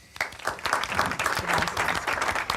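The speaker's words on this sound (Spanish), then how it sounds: "es un gran aplauso también para ella." A studio audience of workers and hosts claps for a radio environment columnist, a dense burst of applause rising quickly and holding steady for a few seconds with no talk over it.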